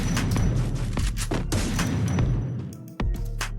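A shotgun fires in a video game in a rapid string of sharp, booming shots packed closely together, loud and close, with one brief lull near the end.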